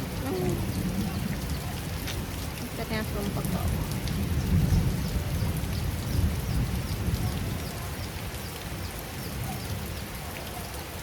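Steady, heavy rain runs down a window pane, with low thunder rumbling through the downpour and a voice speaking briefly over the constant wash.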